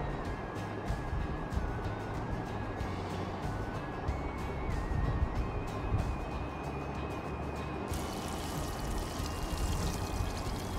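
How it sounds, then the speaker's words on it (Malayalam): Oil poured into a pan for frying marinated chicken for curry leaf chicken pasta, a steady close liquid pour and trickle running continuously over a low background hum. "അതിനായിട്ട് കുറച്ച് ഓയിൽ ഒഴിച്ചു കൊടുക്കുക."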